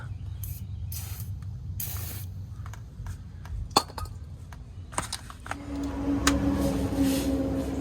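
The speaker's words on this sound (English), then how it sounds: "Penetrating oil on transmission mounts." Short bursts of penetrating oil spray hiss from an aerosol can onto the transmission mounts of a second-generation Dodge Ram truck, with a few metallic clinks and a louder hiss near the end, fairly quiet overall.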